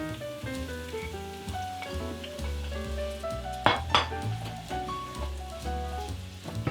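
Scallions frying in a pan, giving a steady sizzle with soft clinks of utensils and a brief louder stir partway through, close and without talk.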